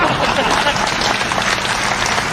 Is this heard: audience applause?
yes